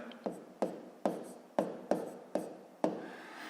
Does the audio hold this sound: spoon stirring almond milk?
no